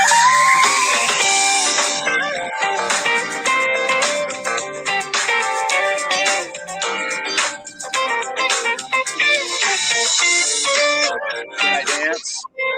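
The jazz-funk track by a contemporary guitarist plays from a phone speaker, a busy, bright mix of guitar and rhythm that runs steadily for several seconds with small dips near the end.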